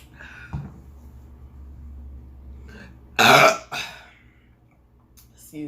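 A man lets out a loud, drawn-out burp after drinking beer, rough and close, preceded by low room hum and a brief throaty sound, then a quieter trailing belch.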